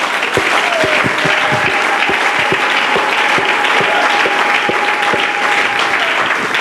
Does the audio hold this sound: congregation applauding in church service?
yes